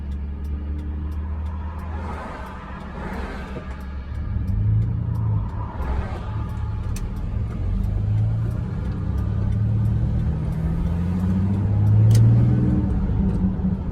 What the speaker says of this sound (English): So much traffic here.